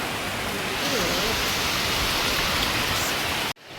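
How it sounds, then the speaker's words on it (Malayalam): Steady rain in Kerala pours as an even, loud hiss of falling water that stops abruptly near the end. "ഇത് മഴ കേട്ടോ."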